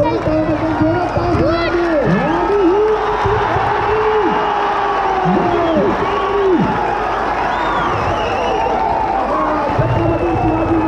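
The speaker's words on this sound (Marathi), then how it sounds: "सर्वांनी टाळ्या वाजवायच्या प्रोत्साहन द्यायचं आपल्या भीमसेना गोविंद" A large outdoor crowd claps, cheers and whoops for a Govinda team at a Dahi Handi event in Vikhroli, loud and continuous, with shouting voices and an amplified announcer talking over the din.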